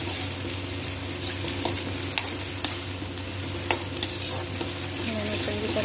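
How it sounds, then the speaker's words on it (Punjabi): Tomatoes being stirred into frying onions in a pan for a cabbage and pea sabzi, with a steady sizzle and scattered clicks and scrapes of the spoon, no talking. "ਹੁਣ ਅਸੀਂ ਇਹਦੇ ਵਿੱਚ ਪਾਵਾਂਗੇ ਟਮਾਟਰ, ਬਸ ਟਮਾਟਰ ਪਾ ਕੇ ਕਰ ਦਿਓ ਮਿਕਸ"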